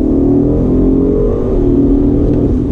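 A 2019 BMW M850i with all-wheel drive accelerating hard, its engine roaring loud and steady throughout as the pitch climbs under sustained throttle.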